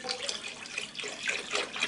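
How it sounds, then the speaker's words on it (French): Reverse osmosis water pours into a bucket for an aquarium, a steady splashing, gurgling stream running continuously up close with no talk. "Et ensuite de ce qui reste pour remplir le seau, je mets l'eau osmosée."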